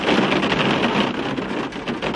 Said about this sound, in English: This rain doesn't want me to succeed in life, do you?